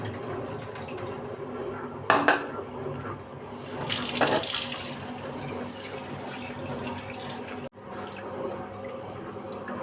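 Flattened rice (poha) is rinsed under a running kitchen tap, a steady close water stream with splashes and surges as the flakes are handled, briefly cut off near the end, with no speech.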